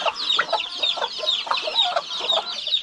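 Chickens and chicks cluck and peep close by in quick, overlapping bursts, a busy, continuous chatter of short calls from a farm flock, with no talking.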